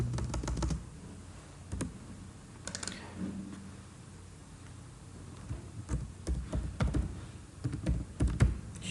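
Computer keyboard typing comes in irregular bursts of sharp key clicks, at moderate loudness. A quiet room hum sits underneath the clicks.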